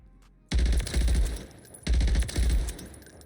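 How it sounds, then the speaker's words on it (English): A fast-firing gun in Call of Duty Modern Warfare III multiplayer rips out two loud, close, sustained bursts separated by a short pause, with no talk over them. "Now, it's crazy because the gun shoots fast."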